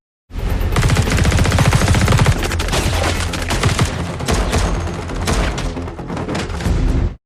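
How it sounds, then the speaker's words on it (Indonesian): Heavy gunfire from a shootout in the 2022 action film Blacklight, with dense machine-gun bursts and booming shots running continuously and loudly throughout, layered with a film score and no speech. "Robinson kabur memanggil anak buahnya untuk menyerang Travis, sehingga baku tembak terjadi."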